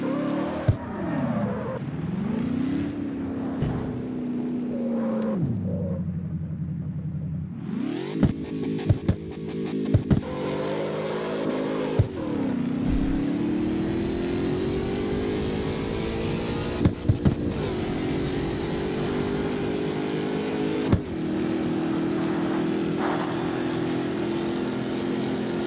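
A car in the racing game CarX Street launches and accelerates hard, its engine note climbing through repeated rising revs with sharp drops at each gear shift, loud and continuous.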